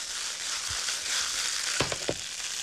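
Boab seedlings sizzling with strips of beef in a hot stir-fry pan, a steady broadband hiss with a few sharp crackles and tossing clatters near the end, no talking.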